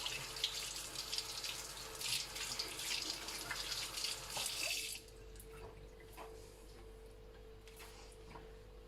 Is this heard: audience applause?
no